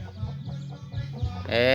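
Chickens clucking nearby in a steady, busy series, with a louder squawk near the end; a voice talks softly underneath.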